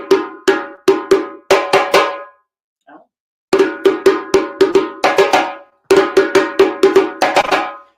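A cowbell beats out a traditional rhythm break in quick clusters of sharp, ringing strikes, close and loud, with a brief gap midway before the pattern resumes.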